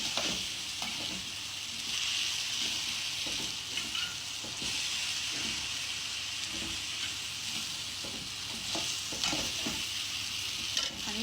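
Dry rice is stirred in a pot while making Egyptian koshari, giving a steady close scraping and rustling sizzle with soft irregular clicks throughout.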